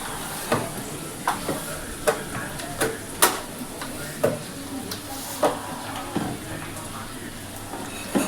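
Garlic and ginger paste frying gently over a low flame at home, a steady soft sizzle broken by regular sharp clicks of a spatula stirring against the pan, close up.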